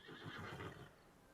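A horse whinnies in The Witcher 3 video game, one short faint neigh with a shaky, trembling rise and fall, heard alone.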